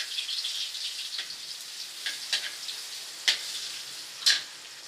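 Garlic frying in oil in a pan, a continuous close hiss and sizzle with a few louder crackling spits and stirring clicks toward the end.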